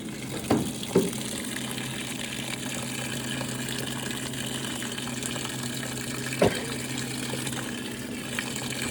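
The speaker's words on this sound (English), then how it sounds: "The load is filling up to a maximum, I would say a large load." Water pours steadily into a washing machine tub filling to maximum for a large load, a soft, constant rushing hiss with a few brief knocks near the start and one later.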